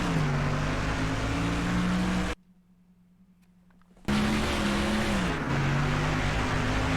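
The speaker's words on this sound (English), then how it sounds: "Hey, let's keep the car on the track." Race car driving around a track: a loud, steady engine drone that shifts pitch as it revs, drops to near silence for about two seconds midway, then roars back at full volume.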